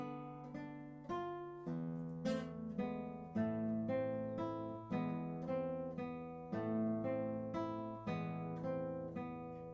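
Classical guitar plays the closing line of Ferdinand Carulli's Barcarole alone, with clear plucked notes and ringing bass in a gentle, steady lilting rhythm, close and moderately soft.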